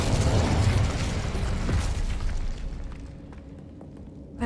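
Incendio fire spell cast in Hogwarts Legacy: a loud, dense burst of flame that roars at full strength for about two seconds, then thins into a fading crackling rumble before a fresh surge at the very end.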